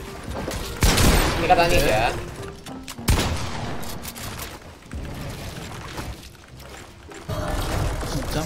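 Minigun gunfire in Fortnite, firing in bursts with several loud sharp onsets amid game effects, while players talk excitedly over it.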